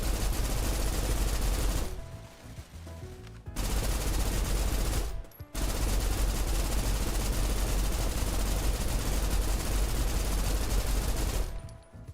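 Sustained automatic turret fire in a video game, dense and continuous with two brief pauses near the start and middle, loud and close with no talking.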